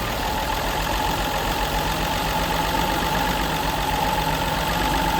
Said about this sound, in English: We're just going to turn the key and see if it starts up.